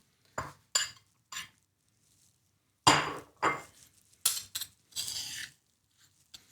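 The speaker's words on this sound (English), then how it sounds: "You don't need to bash it a huge amount once the coconut's in there." Coconut and onions for pol sambal are bashed together, giving about nine sharp, close knocks and clinks in irregular clusters separated by short silences, with no talking.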